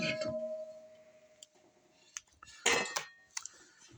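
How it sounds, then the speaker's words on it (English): The metal lid of a vintage Presto Model 21AV pressure canner is opened with a few sharp clanks and scrapes of metal, close and fairly loud, after a quieter stretch. "let me open up the canner here"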